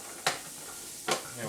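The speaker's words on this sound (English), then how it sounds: "I'm going to add a little bit of chopped garlic, a little bit of diced white onion, my broccoli trim," Chopped garlic, diced white onion and broccoli trim sizzling in a pan with melted fat, a steady close hiss broken by two sharp bursts as pieces hit the pan or are stirred.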